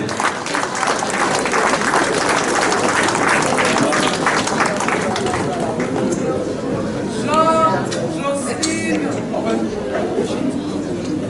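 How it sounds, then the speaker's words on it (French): Loud applause from an audience at a corporate event in a Guadeloupe hotel venue. It runs dense and continuous, with crowd chatter mixed in and voices rising through the later part as the clapping thins. "On les applaudit s'il vous plaît"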